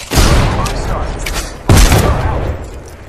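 A frag grenade explodes amid gunfire in Apex Legends, with loud booming blasts and rattling shots filling the clip and a heavy thump just before the midpoint.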